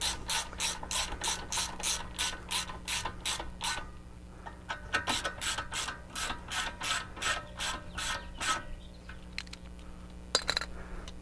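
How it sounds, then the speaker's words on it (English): A hand ratchet tightens the front brake bolts on an 87-93 Ford Mustang during a pad and rotor change, with rapid clicking bursts, a pause, then more quick runs of clicks and a few metallic clinks, up close and without speech. "now go ahead and tighten down these bolts."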